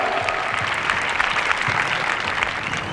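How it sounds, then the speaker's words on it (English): An audience at a 1984 baton twirling competition claps steadily, a dense even patter of many hands sustained throughout without pause. "Let's give them a nice round of applause and wish them good luck."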